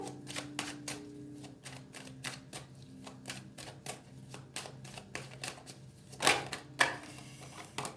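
A deck of tarot cards is cut and handled, giving a run of soft, quick clicking taps in an uneven rhythm, close and fairly quiet, with a couple of louder shuffling rustles near the end.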